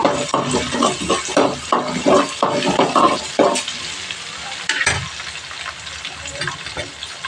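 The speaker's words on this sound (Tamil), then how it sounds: "அடுத்து பூண்டும் சின்ன வெங்காயமும் தட்டி வச்சுருக்கோம்ல அதை போட்டுக்குவோம் அடுத்து கொஞ்சம் வதக்கிக்குவோம்" Fennel seeds, garlic and shallots sizzle and fry in a hot pan while being stirred, with clinks of a spoon against the pan in a busy first half, then a softer steady sizzle and one sharp knock near the end.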